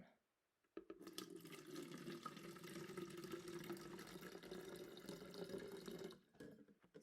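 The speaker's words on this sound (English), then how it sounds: "we're going to pour it into the wetland, just like a rainstorm would happen" Water poured from a bottle onto soil in a small wetland model, a steady close splashing trickle that starts abruptly after a moment of quiet and stops near the end.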